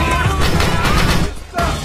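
Dense gunfire at a shooting range in a film scene, loud rapid overlapping shots and booming cracks filling the moment, briefly dipping before resuming.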